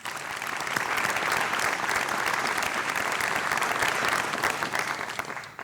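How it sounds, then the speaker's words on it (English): Sustained applause from an audience at a university awards ceremony honoring a graduate, steady, dense clapping that swells in and then fades slightly near the end, moderately distant. "Big round of applause for Lindsay Bull."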